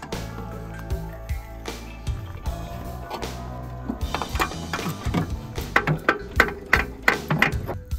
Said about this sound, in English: This is something to tap this starter motor.